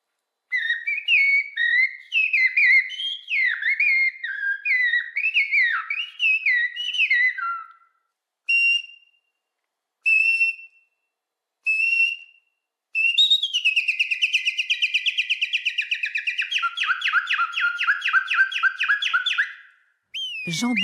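Two men who imitate birdsong whistle bird calls loudly and close up: first rapid warbling phrases, then a few short separated chirps, and finally a long run of fast trilling notes.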